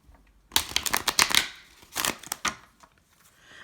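Tarot deck being shuffled by hand, a quick burst of riffled card flutters followed by a second shorter run of crisp flicks, close and fairly quiet.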